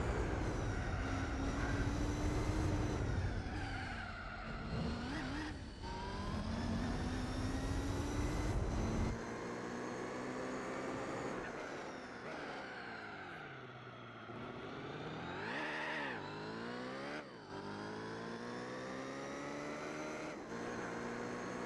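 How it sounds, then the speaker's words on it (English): A race car engine idles in Gran Turismo 4, a loud, steady, burbling drone that holds throughout with a few shifts in pitch and tone. "you would think a race car like this, with this much power, would sound fucking mean and idle. But this one sounds kind of goofy."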